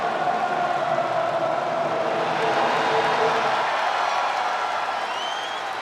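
A video game arena crowd roars and cheers for a wrestler's entrance in WWE 2K25, a dense, steady wash of massed voices and applause held at a constant loud level throughout.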